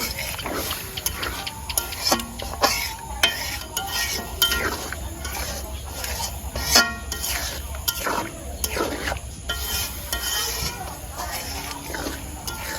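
A spoon stirs beef tripe bhuna in a lidded pot, giving steady scraping and clinking taps against the metal over a constant background hum.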